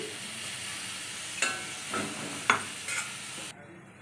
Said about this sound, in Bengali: কড়াটা বসিয়ে দিয়েছি কড়া গরম হয়ে গেছে এবার তাতে তেল দিয়ে দিচ্ছি